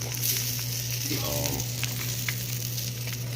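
Tulingan fish frying in a pan gives a steady close sizzle and spatter of hot oil, with a low kitchen hum beneath and a few sharper pops.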